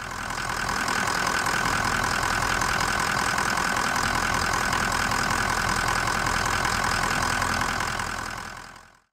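A Ford Powerstroke 6.0 diesel idles steadily up close, its continuous loud drone holding level with a faint knocking texture throughout, while the truck's electrical accessories are switched on.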